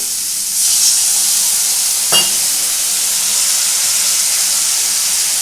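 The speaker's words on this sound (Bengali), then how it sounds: "এবার একটু দেবো জল।" Water goes into a pan of frying masala with ginger-garlic paste for mochar kofta curry, and a loud, steady sizzle and steam hiss follows. A brief clatter cuts in partway through.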